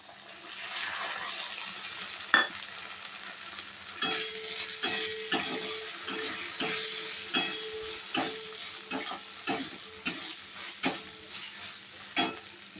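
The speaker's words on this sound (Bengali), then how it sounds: "পেঁয়াজ পোস্ত করবো, তার জন্য পেঁয়াজগুলো একটু তেলের মধ্যে ভেজে নেবো।" Onions fry in oil for Bengali onion posto, a soft steady sizzle with a rhythmic series of stirring scrapes and clinks from about four seconds on, close and fairly quiet with no talking.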